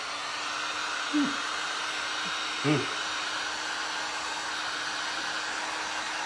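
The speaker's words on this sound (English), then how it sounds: "hit it with the dryer" A hair dryer blows steadily and close to the mic throughout, drying paint on a resin pumpkin head during glass and resin crafting, with a couple of brief voice sounds over the even whoosh.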